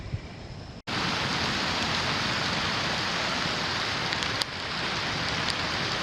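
Steady rain pours down outdoors in a dense, even hiss that runs loud and unbroken, with a brief drop near the start and a few louder drops standing out.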